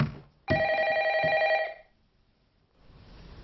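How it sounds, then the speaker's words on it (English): A telephone bell rings in a J-horror film scene, a single loud electronic ring lasting about a second and a half, then fading into quiet room tone with no speech. "When you watch the curse tape, you get a phone call."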